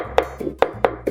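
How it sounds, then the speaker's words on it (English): A knife chops a thumb-sized piece of galangal on a cutting board: four sharp, close strikes in quick succession, evenly spaced. "Chop 1 thumb of galangal."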